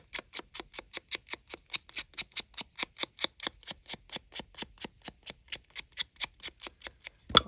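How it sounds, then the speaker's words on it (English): Paper is cut with scissors in a steady run of crisp snips, about four per second, close and clear against near silence. "I'm just going to cut"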